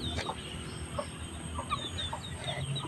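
Chickens cluck softly and intermittently in a farmyard, several short calls scattered across a quiet background, with no talking.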